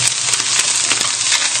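Fish skin fries and crisps in a hot pan beside potatoes in a fish cassoulet, giving a steady, close, loud hiss and crackle with small pops throughout.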